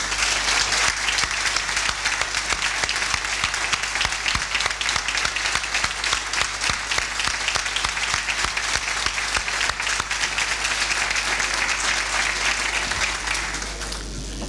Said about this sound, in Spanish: don Sergio López Sánchez Solís Martínez, para el cual pido un aplauso.